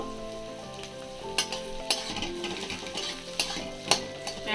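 Onion, green chili, ginger and garlic fry together in a pan with a soft, steady sizzle, while a few sharp scrapes of stirring stand out; no voices.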